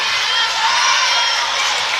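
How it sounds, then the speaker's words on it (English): Loud, steady roar of volleyball crowds at a varsity match cheering and shouting together, a dense wall of voices with whoops rising over it. "Both crowds are getting loud."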